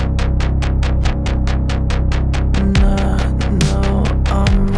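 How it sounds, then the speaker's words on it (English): A glitchy, pitch-shifted synth sample from an electronic demo mix, opening with a steady train of rhythmic pulsing stabs over a low drone, then breaking into warbling, stuttering tones as the pitch shifts; loud and alone. "this is why it's really glitchy, because as I've pitched it, the formant and stuff changes"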